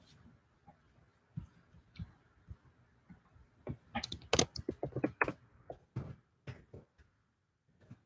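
Typing on a computer keyboard, close and quiet, with sparse scattered keystrokes at first and then a quicker cluster of clicks before it trails off into silence.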